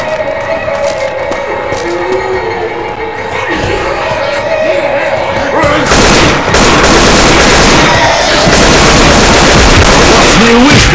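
Dense, loud gunfire from the video game Left 4 Dead 2 rattles in rapid bursts, building into a heavier, continuous barrage of shots partway through.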